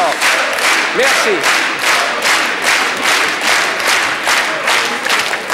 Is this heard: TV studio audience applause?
yes